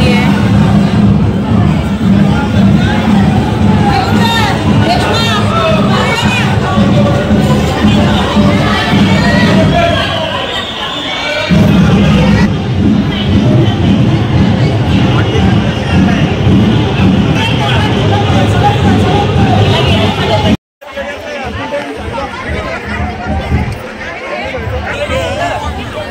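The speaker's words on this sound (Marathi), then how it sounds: "एवढी गर्दी आहे." A dense crowd of people at Ekvira temple fills the air with loud, continuous chatter and babble close around, voices overlapping with occasional traffic noise, briefly dropping out before resuming.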